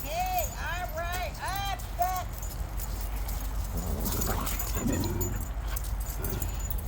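Small dogs yip and whimper in a play pen, sharp high barks clustered early, then scuffling, jangling and movement close by with constant background noise.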